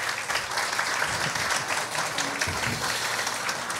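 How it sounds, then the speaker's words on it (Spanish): Audience applause for Gerson at a live Christmas horror show, a steady wash of many hands clapping at moderate distance that holds evenly throughout, with no clear speech. "Fuerte el aplauso para Gerson,"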